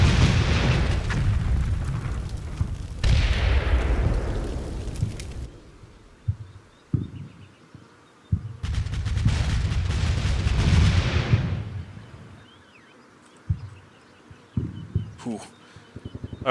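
Artillery shells land in the wargame Combat Mission, two long rumbling bursts of heavy booms separated by quieter gaps with scattered sharp thuds and distant impacts.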